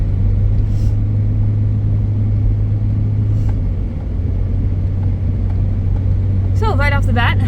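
A 2007 GMC Envoy drives along with a steady low engine drone and road rumble from inside the cabin, and a brief voice is heard near the end.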